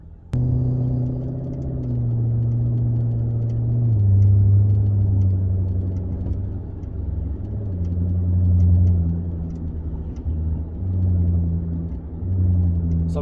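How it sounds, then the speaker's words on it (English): A Genesis 5.0 engine fitted with a Roar pedal rumbles steadily from inside the cabin in slow traffic, its pitch stepping down and settling as the throttle is released. "I don't know if you guys can hear me letting go of the throttle"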